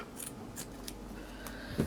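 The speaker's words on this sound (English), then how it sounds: "I've got the wrong scissors, I need the bigger ones" Several crisp scissor snips cut through fabric at an irregular pace, close and fairly quiet.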